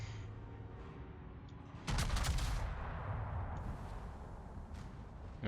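Naval guns fire in World of Warships, a sudden loud broadside blast with a sharp crack and rumbling decay, preceded and followed by steady engine and ocean ambience.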